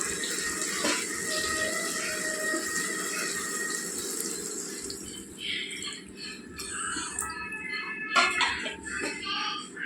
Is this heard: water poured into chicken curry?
yes